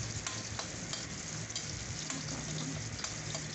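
Garlic, onion and ginger frying in an inexpensive pan, a steady, close crackling sizzle with small popping bursts throughout and no voices.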